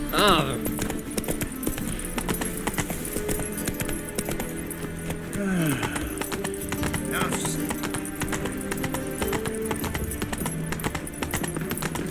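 Horse hooves clip-clopping in The Witcher 3 video game, a steady rhythmic trot heard throughout alongside a brief whinny, with game characters talking over it.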